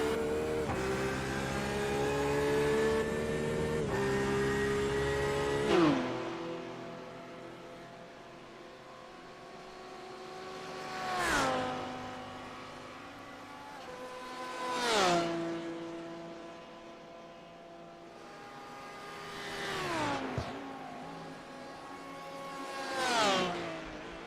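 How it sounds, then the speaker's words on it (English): Porsche race car in an endurance racing video game at Le Mans, engine revving high then repeatedly dropping through downshifts and climbing again, a steady cycle of whining acceleration and braking with no voices. "the Porsche sounds good, doesn't it, Winston?"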